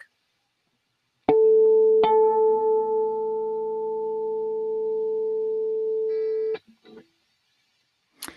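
A steady plucked guitar string tone rings for several seconds while being tuned, its pitch held with a faint beating wobble that settles as it sounds, then cuts off; no talking.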